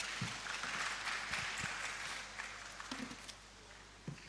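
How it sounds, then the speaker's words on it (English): Applause from a seated audience at a film and TV investment summit during a film festival, steady clapping sustained for several seconds and gradually thinning toward the end. "round of applause, please."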